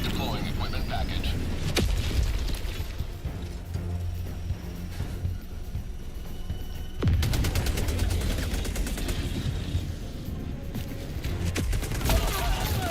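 An automated sentry turret in a video game fires sustained volleys in loud, dense bursts, with clusters of rapid shots and heavy impacts; a player talks during the barrage.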